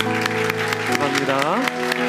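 A church congregation claps in unison during a Sunday service to welcome first-time visitors, brief and steady, with music and a voice carrying underneath.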